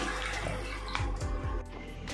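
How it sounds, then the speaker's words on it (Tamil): Water poured and stirred into dosa batter in a bowl, a continuous wet sloshing and swishing close by, with no talk. "அதுக்கப்புறமா தண்ணி சேர்த்து மிக்ஸ் பண்ணிக்கலாம்"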